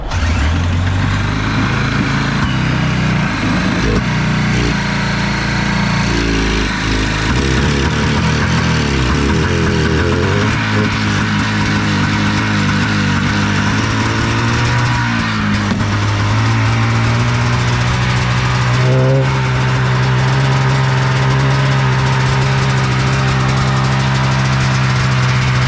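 A poorly tuned engine cranks over repeatedly without firing, a loud, close, steady starter-driven churn running for the whole stretch with no break.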